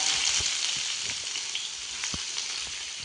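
Thinly sliced onions fry in coconut oil with a steady, bright sizzle and crackle, occasional louder pops and faint stirring scrapes, heard close up without any talking.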